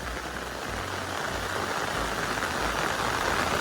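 Heavy monsoon rain in the Konkan pours down in a dense, continuous roar, with a low engine-like rumble faintly underneath and no voices.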